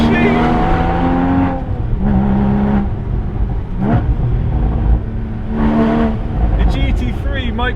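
Porsche Boxster Spyder engine pulling hard along a mountain pass, a loud steady drone with rising and falling revs through gear changes, close and continuous, with a voice talking over it.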